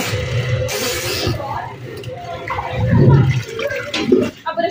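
Washing machine switched on and filling, with water gushing and splashing steadily at close range while someone talks over it.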